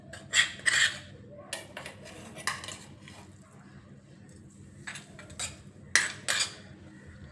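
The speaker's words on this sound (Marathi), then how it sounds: "आता ही आपल्याला एकसारखी हलवून घ्यायची पहा अशा पद्धतीने छान असं मिक्स करून घेऊया" A metal spoon stirs masala into cooked Maggi noodles in a pan, giving scattered close clinks and scrapes in short bursts over a quiet background.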